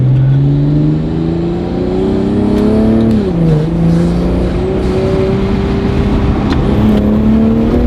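A Brabus G63 is revved at full throttle, loud and close. The engine pitch climbs steadily, dips sharply once, then rises again, with popping bursts that fit the flames it throws out.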